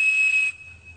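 A Captain Crunch toy whistle from a cereal box sounds a single piercing steady 2600 Hz tone for about half a second, close and loud, then cuts off into quiet.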